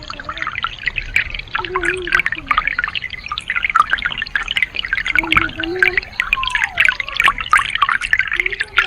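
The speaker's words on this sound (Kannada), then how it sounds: "ಆ ನೀರಿನ ಸೌಂಡ್ ಕೇಳಿ ನಾನು ನೀರಿನ ಸೌಂಡ್ ಕೇಳಿಸ್ತೇನೆ" Water from a small stream pouring into a pool, a steady bright splashing and trickling close by, with a voice speaking over it at times.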